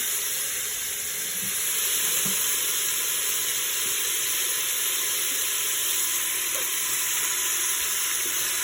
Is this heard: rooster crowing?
no